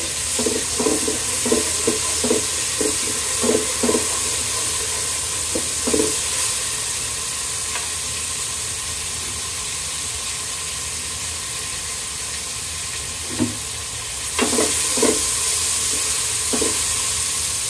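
Ginger, garlic and cumin fry in a pot of oil for khichuri, giving a steady close sizzle with a run of sharp scraping stirs early on and a few more later.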